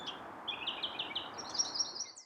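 Gray catbird song, a mimic's varied string of whistles, squeaks, gurgles and trills borrowed from other birds, delivered as a rapid run of phrases over faint background noise.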